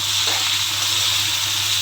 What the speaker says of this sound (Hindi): इसको तकरीबन मैं 6 से 7 मिनट तक फ्राई करूँगी।